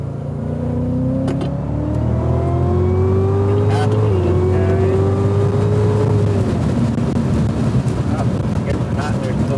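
A Cadillac CTS-V accelerates hard on a race track in Austin, its loud, close engine note rising steadily in pitch with a brief dip around a shift, while a voice talks over it.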